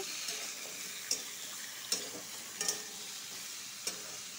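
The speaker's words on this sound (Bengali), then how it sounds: "এখন মিষ্টি কুমড়াগুলো ঢেলে দিব, ভালো করে লাড়াচাড়া করব।" Sweet pumpkin pieces frying in a pan, a quiet steady sizzle broken by several sharp clicks and scrapes of a spoon stirring.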